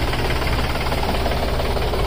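A Mahindra 265 tractor, stuck fast, runs its diesel engine in a loud, dense, constant drone with a rough knocking vibration, steady throughout and close to the microphone.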